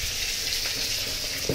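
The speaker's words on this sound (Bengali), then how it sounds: "আমি চাইতেছি বেগুন ভাজিটা সুন্দরভাবে নরম হয়ে উঠুক ভিতর থেকে" Brinjal fries in a pan, giving a steady close hissing sizzle that runs without a break and is heard alone.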